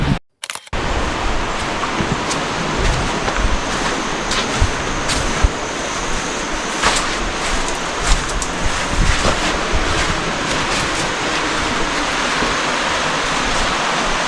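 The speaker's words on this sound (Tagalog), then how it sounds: "parang hampas din ang alon" Ocean surf rolls and crashes steadily onto a beach at Atimonan, Quezon, a continuous broadband wash with wind buffeting the microphone and occasional sharper splashes, fairly close and loud throughout with no talking.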